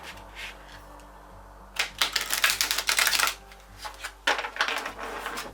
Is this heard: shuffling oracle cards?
yes